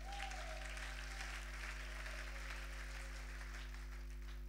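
A church congregation at a Sunday service claps in sustained, even applause that fills the room, with a low electrical hum underneath and no talking.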